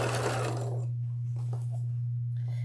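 A sewing machine stitches a denim quilt made from old jeans and jelly roll strips, running loudly for under a second before it tapers off, leaving a steady low electrical hum and faint handling noises.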